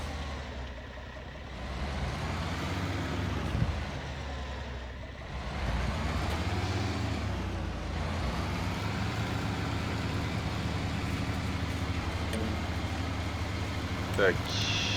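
A farm vehicle in Farming Simulator 25 drives over windrows in a field, its engine droning steadily at mid pitch and rising and falling slightly, with someone talking over it throughout.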